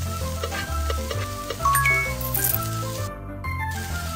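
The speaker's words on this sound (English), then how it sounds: "Stir and fry it." Cartoonish frying and sizzling of onions and garlic in a cooking game, with light clinks and chimes over a busy, bouncy game-style music bed.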